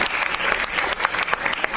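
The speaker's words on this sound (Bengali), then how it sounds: "একটু জোরে হাততালি হোক ওদের জন্য।" An audience at a World Cancer Day event gives loud, continuous applause, close and dense, with no one speaking over it.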